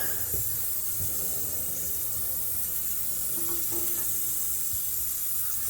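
A steady hiss of water spraying under pressure from a leaking toilet, continuous and close, with faint splashes and knocks beneath.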